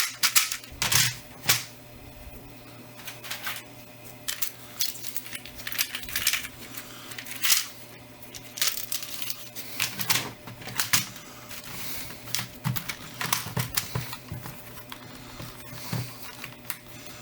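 Typing on a regular computer keyboard from a pile of e-waste, producing a steady stream of close, clicky keystrokes with irregular bursts and brief pauses, with no talking.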